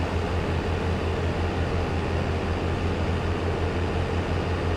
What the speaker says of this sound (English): As you see the train go on by.